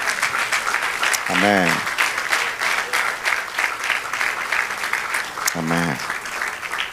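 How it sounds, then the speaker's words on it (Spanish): A church congregation applauding at a Spanish-language service, steady dense clapping throughout with two short sung or spoken voice bursts rising above it. "dele aplauso al Señor"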